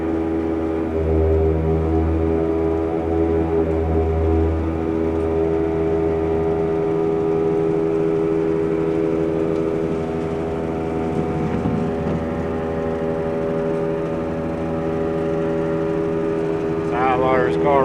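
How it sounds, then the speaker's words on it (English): A farm silo unloader, blower and roller mill running together, a loud steady mechanical drone with layered humming tones throughout, with no voices. "They just turned the blower on now. Roller mill, actually. Silo loader's running."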